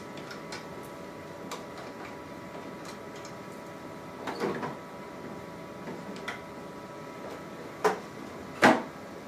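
Parts of a Zebra ZXP Series 8 card printer laminator are handled as its heated roller assembly is removed: scattered light clicks and ticks, then a few sharper plastic knocks and a scraping slide near the end, with no talking.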